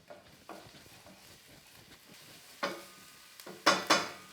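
Three medium shallots soften in hot grapeseed oil, a quiet sizzle broken by several sharp scrapes and clinks of a utensil stirring the pan, two loud clusters of stirring near the end.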